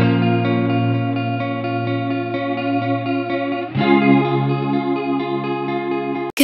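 Guitar run through the Biggifier plugin for a fuller, fatter tone, sustained chords with a thick, chorused and slightly distorted sheen, steady and loud, changing chord partway through, with no talking.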